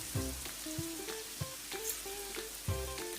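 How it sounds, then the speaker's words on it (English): Chicken pieces for sweet and sour chicken fry in hot oil, a steady close sizzle broken by several sharp pops and clatters as pieces shift in the pan. "So I'm going to allow this batch to fry"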